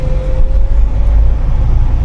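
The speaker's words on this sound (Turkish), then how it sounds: "hep sürekli böyle bu saatte bile öğlen bile gidebilen trafik var" Street traffic rumbling past 14- to 15-storey apartment buildings, a loud continuous low drone of engines with a faint steady tonal hum, no voices.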